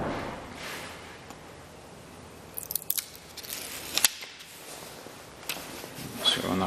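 Sublimation paper is peeled off a freshly heat-pressed phone case, giving faint papery crackles and crinkling bursts over a quiet background, loudest in the middle.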